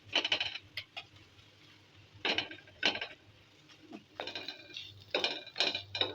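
Metal utensil scraping and clinking against a pan while egg mixture is stirred, a few separate bursts of clatter with short quiet gaps between them.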